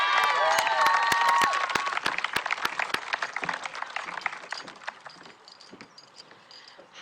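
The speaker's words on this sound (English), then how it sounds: "I think we should just give another round of applause to Annika and JD" A crowd at a high school graduation ceremony applauds and cheers, with a dense wash of clapping and high whoops at the start. It thins over several seconds to scattered claps before falling quiet.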